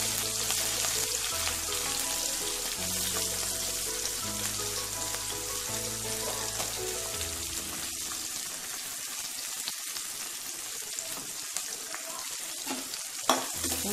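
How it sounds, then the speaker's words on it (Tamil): Onions, garlic and green chillies sauté in hot oil in a pan for a yam kuzhambu, giving a steady, close sizzle and crackle that runs unbroken with occasional stirring clatter and no voices. "வெங்காயம் போட்டுட்டு கொஞ்ச நேரம் அப்படியே வதக்கணும்."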